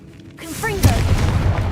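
A Confringo blasting spell bursts in Hogwarts Legacy: a deep, booming explosion hits suddenly after a short rising magical whine, then rumbles on loudly. Voices can be heard faintly in the mix.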